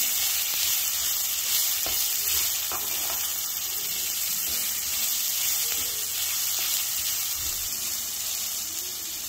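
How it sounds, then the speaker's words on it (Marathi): Chopped tomatoes sautéing in a pan with garlic and grated coconut give a loud, continuous hiss and sizzle with a few scraping stirs, close up and without talk. "आता त्यात टाकणार आहे टोमॅटो. टोमॅटो पण छान परतून घ्यायचं."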